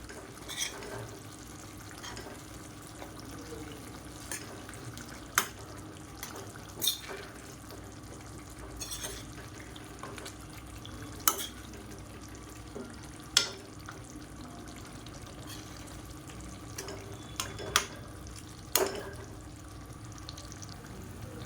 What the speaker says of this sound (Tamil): இப்போ ஒரு சைடு திருப்பி விட்டுக்கலாம். இப்படியே நல்லா ரோஸ்ட் ஆகட்டும்.